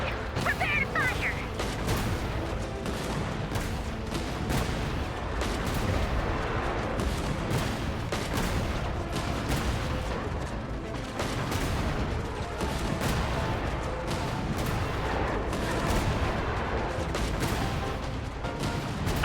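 Cannon fire from Bosco booms in Genshin Impact, a dense run of repeated heavy blasts and rapid shots that continues loud and unbroken, with battle noise mixed in.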